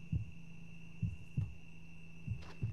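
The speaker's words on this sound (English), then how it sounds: "Is it my heartbeat?" Heartbeat in the UMA horror video game, a low muffled thump repeating in an uneven rhythm over a steady electronic hum, close and fairly soft with no voices.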